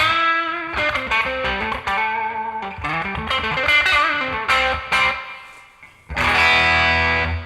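Overdriven electric guitar played through a NUX MG-30 effects processor, set for a cranked-gain, low-master-volume tone: loud sustained chords and riffs with a brief dip before a final ringing strum.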